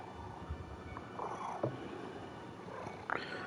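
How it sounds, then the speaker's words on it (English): A cat purring close by, a soft steady rumble with a few faint clicks and rustles, no talking. "I don't know if you can hear him, but my cat Cookies is here."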